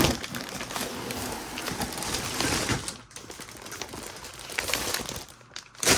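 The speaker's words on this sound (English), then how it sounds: "Let me just pull out all these bags." Plastic parts bags from a LEGO Star Wars UCS Mandalorian N-1 Starfighter set crinkle and rustle steadily as they are pulled out of the box, close up, with brief pauses near the end.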